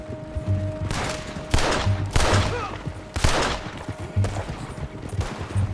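Gunfire in the Red Dead Redemption 2 video game: several sharp shots crack out one after another at irregular intervals over a low, rumbling game background, moderately loud, with no talking.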